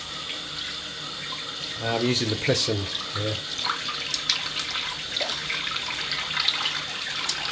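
Tap water running into a sink to warm it before a straight razor shave, a steady splashing gush from close by while someone talks over it.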